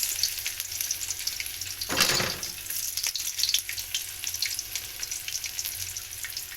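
Garlic and onion sautéing in a pan for mussels, a steady close sizzle with a short burst of louder frying and faint stirring, no talking.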